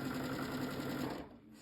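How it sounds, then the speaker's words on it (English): A sewing machine stitches a quilt seam with a steady, close buzzing whir that runs continuously, then slows and fades near the end. "Sew as far as you can each time, and then adjust your quilt to make it easy to feed."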